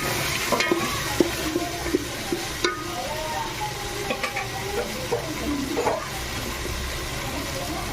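Peanuts stirred into pea rice frying in a pan, with a steady sizzle throughout and scattered light clinks and scrapes of the spoon, close and moderately loud, without talk.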